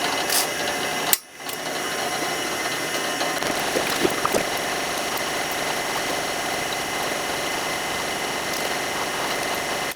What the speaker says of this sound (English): So I'm going to drill these holes with the drill press.